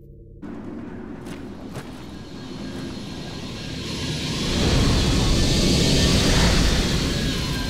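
An aircraft landing in the video game Vanquish, a steady engine roar that swells from moderate to a loud, broad whoosh and holds there, with a few faint clicks early on.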